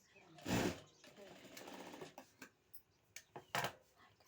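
A sewing machine stitches the back piece of a blouse in a quiet room. One loud burst of running is followed by softer mechanical whirring and several short clicks and knocks, heard close up.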